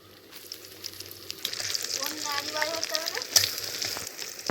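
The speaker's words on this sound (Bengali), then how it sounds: "এবার এই পেঁয়াজ আর রসুন কুচি একসঙ্গে" Chopped onion and garlic frying together in a pan make a steady sizzle that builds gradually, with faint voices and background sounds in the mix.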